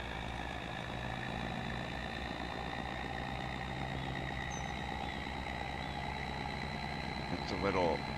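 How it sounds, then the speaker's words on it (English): A smaller tractor engine idles in Farming Simulator 25, a steady low rumble with a faint whine and tonal hum holding throughout, close and continuous while someone talks over it. "I think for this we're going to use the other tractor that we have in the yard."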